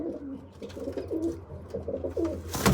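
Pigeons coo close by in a steady series of low, throaty, rolling calls, moderately loud, with no voices.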